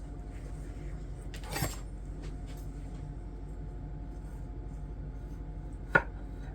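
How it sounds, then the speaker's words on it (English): A knife cutting potatoes into thin slices, heard as two isolated, sharp knocks on a board several seconds apart over a faint, steady background hum. "cut your potatoes in half and then into thin slices like we did last time."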